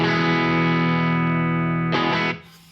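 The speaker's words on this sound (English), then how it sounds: "clean sound into the Engel is this" Electric guitar played on a clean tone through an Engl amplifier, sustained ringing chord that swells again near the end before cutting off, up close with no voices.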